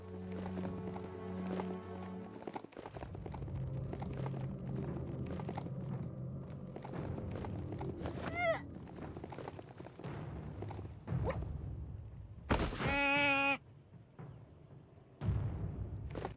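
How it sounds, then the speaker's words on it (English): A demon goat mount in the Biomutant video game runs with steady hoof clatter throughout, rumbling underneath, with sharp bleat-like cries and whooshing bursts breaking in near the middle and end. "Look at here. I got me a demon goat."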